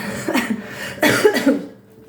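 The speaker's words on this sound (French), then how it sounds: "Désolée, je me racle la gorge beaucoup." A short burst of throat clearing followed by a second, harsher rasp, close to the microphone in a quiet room.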